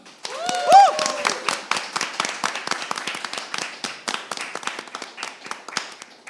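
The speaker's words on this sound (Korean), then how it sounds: "여러분들의 큰 박수로 시작하겠습니다" A crowd applauds to open a motorcycle culture showcase, with many sharp, distinct hand claps in a lively, irregular patter; a brief whoop or voice rises near the start.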